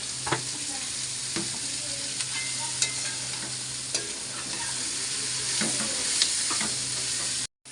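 Vegetables frying in a little oil in a pan on a low flame, a steady close sizzle with scraping stirring strokes scattered throughout, no voices.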